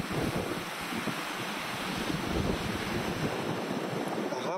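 Surf and wind roll in on the seafront beach of Anglet on the Basque coast, a loud continuous roar of waves with buffeting wind against the microphone.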